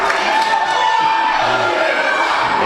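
A wrestling event crowd cheers and shouts in a loud, steady roar that fills the whole moment without letting up.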